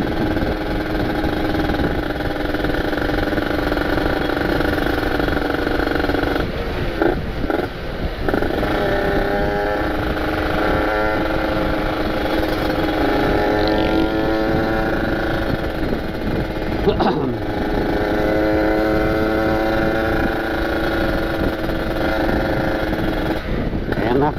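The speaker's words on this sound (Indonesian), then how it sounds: "pengen dengerin suara motor nih" Kawasaki Ninja RR two-stroke motorcycle with daily-use ported engine idling and revving nearby, a raspy buzzing drone with several throttle blips and rising revs, steady and loud throughout.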